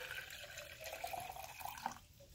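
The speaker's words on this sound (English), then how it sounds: "Then we'll pour that fluid, that water, into the grail water filter." Murky meltwater from snow is poured into a Grayl water filter outdoors, giving a steady close splashing trickle with a rising, gurgling tone as the vessel fills over about two seconds, with no talking.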